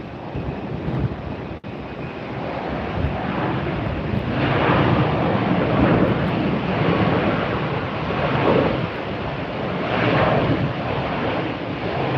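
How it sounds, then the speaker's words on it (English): A United Airlines jet taxis at Tampa airport on a very windy day, a steady broadband engine rumble mixed with heavy wind buffeting on the microphone, swelling and easing over the whole stretch with no voices. "Got United taxiing out."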